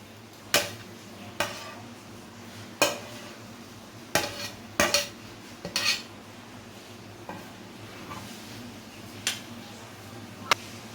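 A spoon knocks and scrapes in a pan while egg bhujia is stirred into chicken khichuri, with about a dozen sharp, sparse clinks spread over a quiet background.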